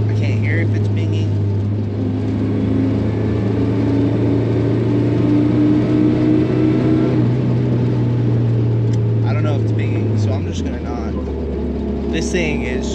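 Supercharged 3RZ engine of a vintage four-wheel-drive Toyota Sunrader driving, a loud sustained low drone heard from the cabin that holds steady before dropping in pitch near the end as the engine eases off, with talk over it.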